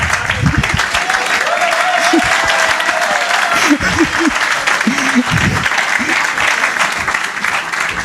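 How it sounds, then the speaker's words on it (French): A church congregation applauding and cheering, loud sustained clapping from a large crowd with shouts and voices rising through it, steady throughout. "Vous faites bien d'acclamer."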